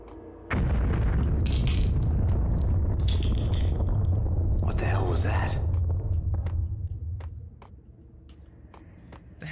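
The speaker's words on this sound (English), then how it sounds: "That must have been the explosion." A sudden heavy explosion in the video game Max Payne bursts out loudly, then settles into a long, deep rumbling roar that slowly fades away over several seconds.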